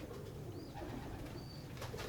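Pigeons cooing at a fancier's loft in Wassanpura, a soft low murmur running steadily beneath a faint background hum, with brief higher tones flickering in and out.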